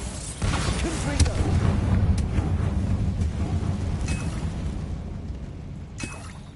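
The Confringo fire spell in Hogwarts Legacy goes off with a deep booming burst that rolls into a sustained rumbling roar, close and heavy, fading slowly with a few sharp crackles over it.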